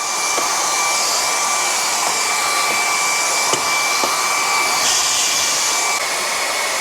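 An INTETURE cordless stick vacuum cleaner runs steadily with a high whining motor hum while cleaning along windowsills, close and loud throughout, with a few faint taps of the nozzle against the sill and no talking.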